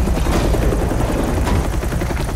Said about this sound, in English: God damn, helicopters are loud.